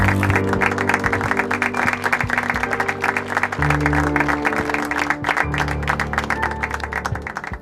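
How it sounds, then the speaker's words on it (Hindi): A crowd applauds steadily to welcome a young police recruit, with dense sustained clapping and a low background drone running underneath throughout. "तालियों से स्वागत कीजिए"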